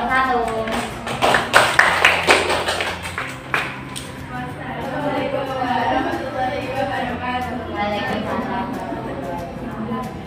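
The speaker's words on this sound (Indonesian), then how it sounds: "Beri tepuk tangan untuk kelompok 1." Students applaud a group in an Indonesian science classroom. A burst of clapping in the first few seconds gives way to a softer, sustained murmur of children's voices and room noise.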